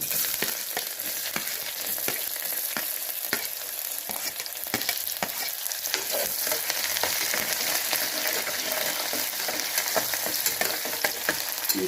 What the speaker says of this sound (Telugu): ఆయిల్ వేడెక్కిందండి ఆవాలు జీలకర్ర వేస్తున్నాను ఇప్పుడు ఉల్లిపాయలు